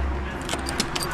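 A bunch of keys jangles close by in a short burst of bright metallic clinks, several quick jingles over a low background hum.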